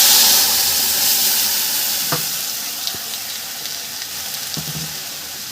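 A mustard, poppy seed and chili paste fries in a pan for a village-style Bengali phuluri jhal. The sizzle is steady and fairly loud and eases slightly, with a few sharp knocks of a utensil against the pan.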